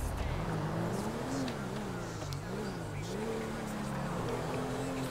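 A car accelerates in the video game GTA 5, its engine tone rising and wavering steadily throughout under a continuous layer of noise, with people talking over it.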